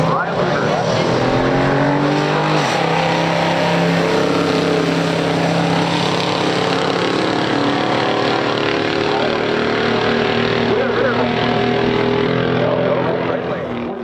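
A 1963 Impala SS 409 and a 1969 Oldsmobile Cutlass W31 pure stock drag race, with loud, close V8 engine roar climbing through gear changes, a full-size Chevrolet banging gears in a sustained run.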